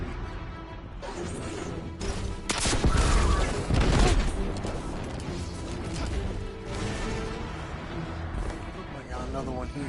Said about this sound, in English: Oh, rockets.